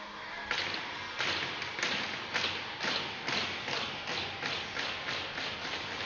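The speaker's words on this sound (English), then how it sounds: "the Riders bang on the bench, makes a noise" Hockey players bang sticks on the bench at a high school game in a rink, a steady run of sharp thuds about every half second, loud and repeated for several seconds.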